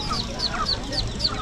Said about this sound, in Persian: نه اردک اسرائیلی